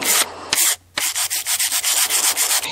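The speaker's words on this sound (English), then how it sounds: "Let's see if we can clean this out maybe with a file card." A file card scrubbed across a clogged grinding wheel, giving rapid rhythmic rasping strokes, close and loud, with a brief pause near the start and no talk.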